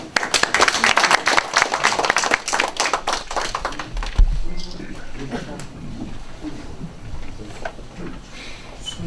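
Audience applause at an outdoor-style political launch rally for a citizens' campaign group, dense clapping loud at first then thinning and fading into scattered claps over crowd murmur.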